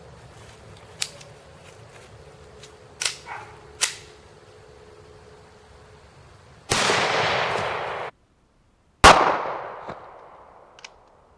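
An Archon Type B 9mm handgun fires at body armor: several sharp, separate cracks ring out at irregular intervals, followed later by two louder, longer bursts of noise, with quiet gaps between them.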